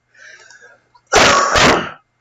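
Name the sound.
cough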